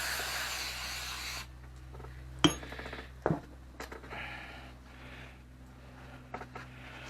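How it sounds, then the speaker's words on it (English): Parts cleaner hisses out of a spray can onto carburetor parts from a 7HP Briggs and Stratton generator, a loud spray burst at first followed by clinks and handling of metal parts at close range. "See if I can get some parts cleaner down in this thing here."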